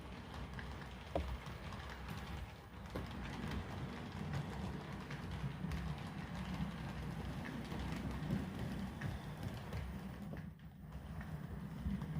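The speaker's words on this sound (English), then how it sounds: "go ahead and push your train" A low, steady rumble with light clicks and rattles continues throughout as a toy train is pushed along its track, with no voices.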